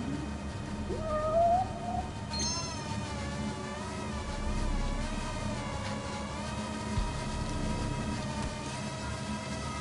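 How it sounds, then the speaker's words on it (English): A faint, drawn-out cat meow in the video game Judgment rises briefly early on, set against a steady game soundtrack hum with sustained tonal notes. "Hearing this friggin' meowing. What is this meowing?"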